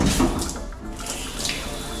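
Water runs steadily from a shower in a semi-truck, a constant hissing splash that continues without break.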